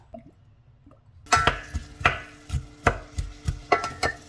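Carrots, tomatoes and squash being chopped on a board, starting after a quiet second or so, then a run of firm evenly spaced knife thuds, about two per second, close and clear with no talking.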